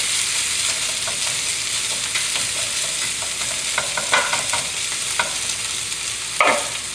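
Pork and vegetables in a gochujang sea salt stir fry sizzle loudly and steadily in a hot pan, with scattered clicks of tossing and a sharper scrape near the end. No one speaks.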